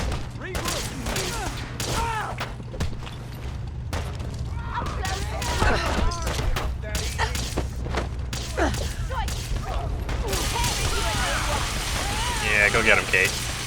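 Bursts of gunfire crackle repeatedly in a firefight in modded Fallout 4, irregular shots and thuds mixed with voices talking over the action.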